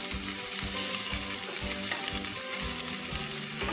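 Mint and onions frying in a pan for a rice flour breakfast dish, a steady loud sizzle with soft rhythmic stirring thumps underneath, no talking.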